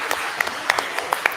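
Scattered applause from a conference audience at the end of a technical session presentation at ICDEC-2022, heard as sparse, separate claps of moderate loudness rather than a dense ovation.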